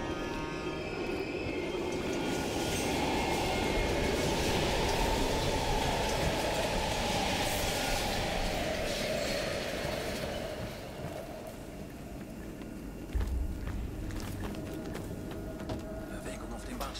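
A subway train rumbles through an abandoned station in the Call of Duty: Cold War video game, a loud continuous roar that thins out partway through, with brief thuds later on.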